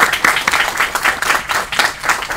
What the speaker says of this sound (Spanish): Un aplauso para Alejandro, por favor.